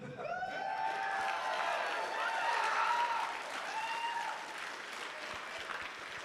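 A crowd at a pro-gun political conference cheers and applauds loudly, dense clapping mixed with whoops and shouts, swelling in the middle and then holding steady.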